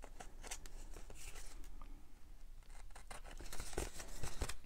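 Scissors trim a small piece off a sheet of paper in faint, close snips and soft rustles, with no voices over them.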